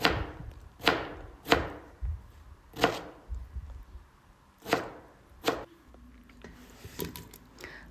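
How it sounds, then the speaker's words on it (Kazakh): Apples are chopped with a knife on a cutting board for a fruit compote, with about ten crisp, close knocks spaced irregularly over a quiet kitchen background. "Алмамызды дәл солай видеода көріп тұрғандарыңыздай турап аласыздар."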